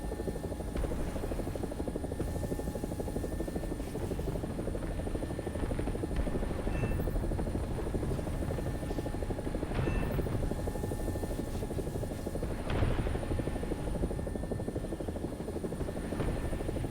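AB 205 A-1 helicopter, an Italian-built UH-1H, in War Thunder, its rotor and turbine droning in a steady, loud, continuous whine that persists unbroken throughout with no talk.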